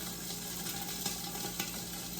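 Sausage frying in a pan for a breakfast poutine, a steady close crackle and hiss of hot fat with small pops and faint stirring scrapes, continuous and without voices.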